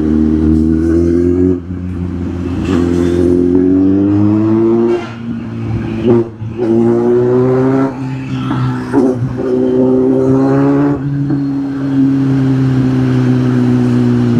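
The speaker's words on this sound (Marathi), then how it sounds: "बाहेर आलो, थोडंसं गाडीला आता रेव केलं ना" A car engine revs repeatedly over a steady idle. Its pitch climbs and falls in several close, loud bursts across the whole stretch.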